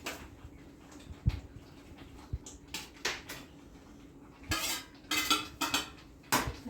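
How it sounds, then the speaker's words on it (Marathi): Fried paneer pieces for paneer tikka masala drop into thick masala in a metal pan, bringing scattered clinks and knocks of utensil against pan, with several louder clusters of scraping toward the end. "आता आपण याच्यामध्ये हे जे पनीरचे पीस आहेत फ्राय केलेले हे टाकूया हळूहळू टाकायचे"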